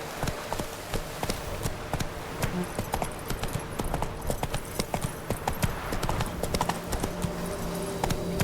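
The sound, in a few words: horse galloping, from the video game The Witcher 3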